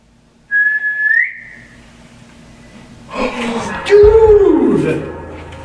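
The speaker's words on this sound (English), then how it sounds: "we hear 3 distinct whistles" A clear, high whistle sounds briefly inside an old jail, then after a pause people react with a gasp and talk, while another whistled tone slides under their voices.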